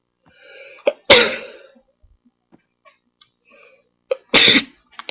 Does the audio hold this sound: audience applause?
no